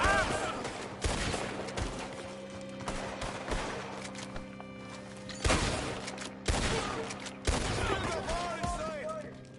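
Gunfire in Red Dead Redemption 2, a Wild West shootout with sharp, loud shots breaking out in repeated bursts over music and ambient tones, while voices talk between the volleys.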